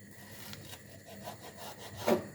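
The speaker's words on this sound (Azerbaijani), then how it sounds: "Salatın üzərində gördüyünüz gülləri, ağ turpu bu şəkildə kəsirəm." A knife cuts white radish into flower shapes for a salad, giving soft scraping and sawing strokes at close range, with a louder cut near the end.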